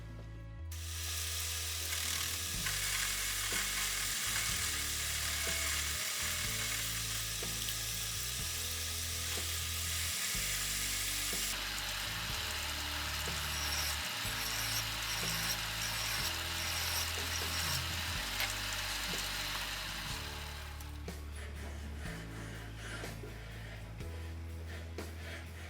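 Wood turning chisels cut a relief into a spinning workpiece on a lathe while making custom lathe centers, a loud, continuous hissing shear over a steady motor drone, pulsing with a regular low rhythm, no speech.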